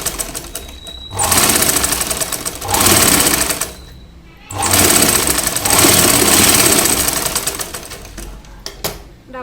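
Sewing machine stitching a plain blouse, running in loud rapid bursts of mechanical clatter separated by short pauses, up close and alone.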